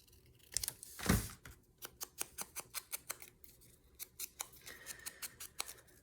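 Scissors snip through white paper for a handmade craft folio, one long cut followed by a quick run of short, crisp, evenly spaced snips, close and clear with no talking.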